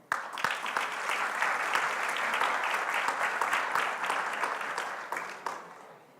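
Steady, dense applause from an audience at an accounting business summit in Guarulhos greets a regional delegate, holding loud and even for about six seconds before tapering off at the end.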